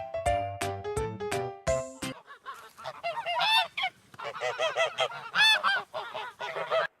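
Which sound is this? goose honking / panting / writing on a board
goose honking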